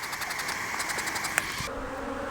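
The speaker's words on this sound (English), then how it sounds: "I've got quite a few bees buzzing me right now." Honeybees buzzing around a defensive beehive, a steady insect drone close by with a pulsing whine and one sharp tick, the buzz thinning near the end.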